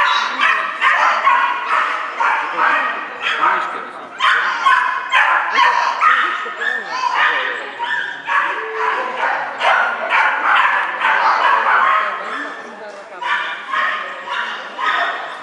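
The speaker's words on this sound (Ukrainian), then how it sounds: "Это молодая совсем собака, да?" A young dog barks and yips in rapid, nearly continuous bursts for the whole stretch, high-pitched, close and loud, with short whimpering notes mixed between the barks.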